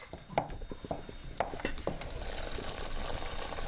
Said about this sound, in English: I'm just going to keep stirring this